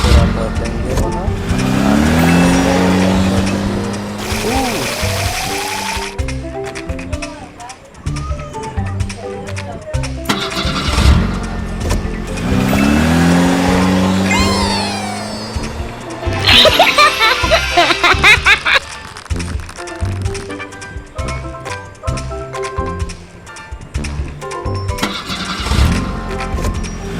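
A small DIY mini truck loaded with concrete starts its engine and drives off, the motor revving and whining in bursts with tire noise, while people talk over it.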